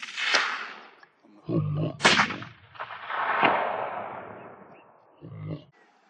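Rifle shots at a long range shooting session: about three sharp cracks, each trailing off in a long rolling echo, with brief voices speaking between them.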